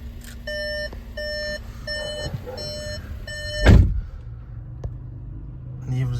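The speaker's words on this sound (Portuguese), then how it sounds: "a gente liga o carro aqui" A 2025 Volkswagen Nivus Highline with a 1.0 TSI engine starting: a series of regular dashboard chime beeps, then a short, sharp starter burst and a low engine idle that settles in afterward.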